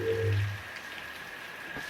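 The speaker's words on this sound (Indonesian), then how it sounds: "Suara hujan dan angin bercampur dengan bunyi tetesan air dari atap yang bocor." Rain and wind on a night with water dripping from a leaking roof, a soft, steady patter with a low rumble at the start that fades into quiet rainfall.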